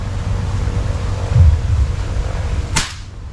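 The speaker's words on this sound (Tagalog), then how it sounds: "firing again" An air rifle firing an 18-grain pellet at a 20-meter bench-rest target, a single sharp crack near the end of a quiet stretch of low outdoor rumble.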